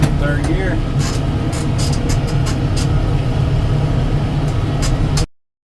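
Kubota M7060 tractor driving a brush hog through pasture in third gear at 540 PTO speed, a loud steady low diesel drone with mower rumble running unbroken, with faint clicks and brief knocks above it.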